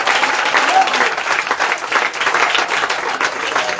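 A church congregation applauds in praise of Jesus, a dense, steady wash of clapping filling the room, with voices mixed into the crowd noise.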